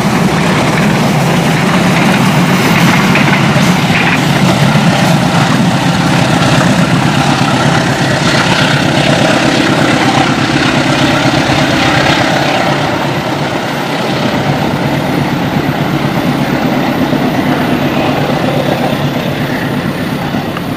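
A train engine idles on a hillside track, a steady, loud, continuous diesel rumble with broad mechanical noise that holds throughout and eases slightly toward the end.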